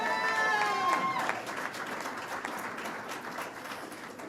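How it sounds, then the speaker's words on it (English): A crowd applauds at a Congressional Hispanic Caucus event in Houston, Texas, where Vice President Kamala Harris is speaking. Dense, steady clapping fills the whole stretch, with a few raised voices and cheers near the start. "I think that deserves a round of applause."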